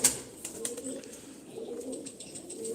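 Sivas pigeons cooing softly and close by, a few low rolling coos repeating over a quiet background with faint rustling.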